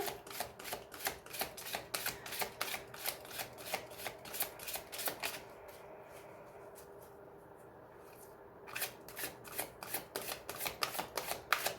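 Oracle cards are shuffled by hand for a card reading, with quick rhythmic riffling and slapping that pauses for a few seconds of near silence before resuming, close and fairly quiet.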